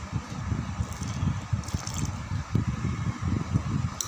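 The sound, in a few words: water poured into flour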